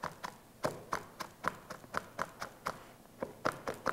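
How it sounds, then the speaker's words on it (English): A knife mincing green onions on a cutting board, a quick series of crisp, close chopping taps in an uneven rhythm, about a dozen strikes with a brief pause midway. "I'm going to mince that a little bit more"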